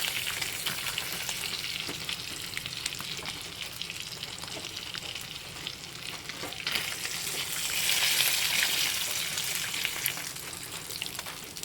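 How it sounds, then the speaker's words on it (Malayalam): Karimeen, pearl spot fish, frying in an oiled pan: a dense, continuous hiss and crackle of sizzling oil that holds steady and swells a little louder partway through, with no voices. "അടുത്ത മീനും കൂടെ ഫ്രൈ ചെയ്യാനിട്ടിട്ടുണ്ട്"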